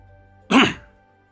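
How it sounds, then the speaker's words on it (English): A single short, gruff male cough in the video game Final Fantasy XIV, sharp and close over a quiet hum of game ambience, with no talking. "Bit of a manly cough there, but never mind."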